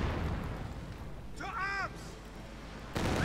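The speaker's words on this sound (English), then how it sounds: "And the Katyusha strikes straight into the German base" Katyusha rocket barrage and battle noise in the Company of Heroes 2 strategy game: a constant dense rumble of distant explosions and gunfire, with a brief whistling rising tone in the middle and a renewed burst near the end.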